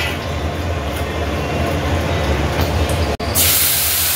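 Black cumin seeds and dried chilli are tempering in hot oil, giving a loud, steady, close hiss that runs without a break and drops out only for a split second near the end.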